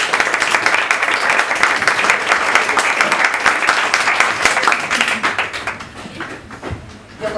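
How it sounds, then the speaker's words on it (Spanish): Lively applause from an audience at a storytelling session, crisp dense clapping that holds steady for several seconds, then thins out and fades near the end. "Quiero pedir un fuerte aplauso para un cuento muy especial"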